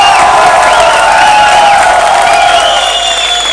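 An audience at a Lux Perfect Bride grand finale bridal show applauds and cheers in a loud, dense, continuous wash of clapping and whoops that fills the whole stretch.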